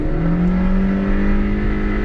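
A supercharged Subaru Pleo's engine whines and builds steadily under acceleration, a continuous rising drone heard from inside the cabin with no talking.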